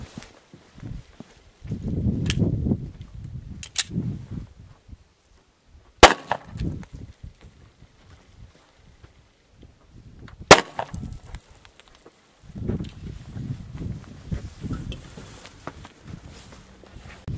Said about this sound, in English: Okay, so we just fired the 40 caliber Hornady TAP at the cinder block.